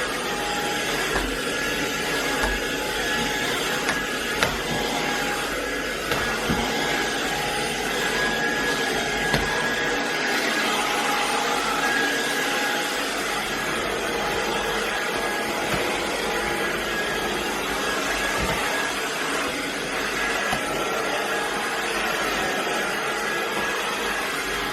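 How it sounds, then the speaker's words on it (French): A steady, loud vacuum cleaner drones continuously throughout, with occasional brief bumps and knocks as the nozzle moves over surfaces. "je vais aspirer en fait déjà pour voir si ça part les poils avec"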